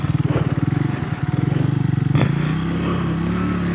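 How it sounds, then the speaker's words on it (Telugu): Triumph Scrambler 350 motorcycle being ridden on the road, its engine thumping in a fast steady pulse, loud and close, easing into a smoother drone after a brief knock. "బండి రైడ్ చేయడం స్టార్ట్ చేసేసాము."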